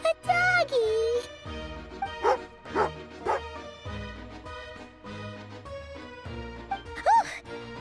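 An angry dog barking in the video game Genshin Impact, a run of repeated growly yips and barks over game music, with a character's voice mixed in.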